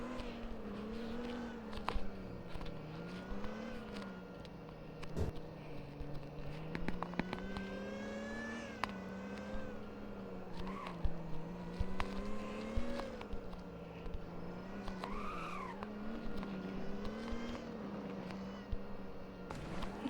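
A 2024 Audi A6 in the game Driving Empire drives with a wavering, revving engine tone throughout, tires squealing in brief rising bursts, all steady and moderately loud with faint talk underneath.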